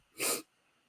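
A single sharp sneeze bursts out close by, loud and brief, followed by quiet.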